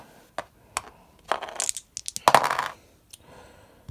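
Dice for a Warhammer 40k tabletop game are rolled onto a table, making several short, sharp clattering bursts and a busier rattle near the end, close up and with no talk.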